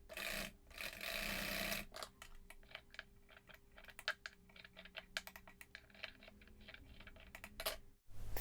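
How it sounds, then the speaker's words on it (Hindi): A sewing machine stitches a young girl's skirt top, a close, steady rapid clatter running in several passes with a short pause between them and a brief burst of handling noise at the start. "इसको ऐसे उल्टा रखेंगे और सिलाई लगा देंगे।"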